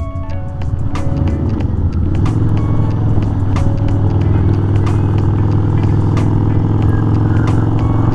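An old Kawasaki motorcycle ridden on a grooved highway in the Pacific Northwest, its engine a steady loud droning hum with rising revs at first, under continuous road and wind rumble.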